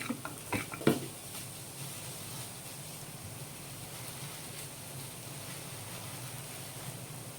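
Bitter gourd fry with coconut chili powder is stirred in a pan: a few clinks of a utensil at the start, then a faint, even sizzle continuing quietly.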